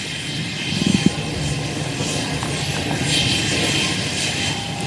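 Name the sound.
military aircraft flying from an air base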